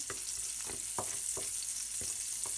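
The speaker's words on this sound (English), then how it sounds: "We're gonna saute this a little bit." Onions sautéing and caramelizing in a pan, a steady close sizzle broken by several sharp scraping stir strokes at irregular intervals, with no talk.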